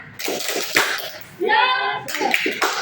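Rhythmic hand claps from a class of tenth-grade students doing a group clap chant, with children's voices chanting over parts of it, close and lively.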